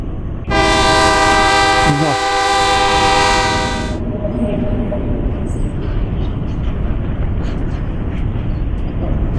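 A train passes near Farakka beside flooded fields, its loud horn blaring steadily for a few seconds before giving way to a continuous rumbling clatter of wagons.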